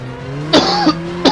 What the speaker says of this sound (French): la fumée de l'explosion m'a fait tousser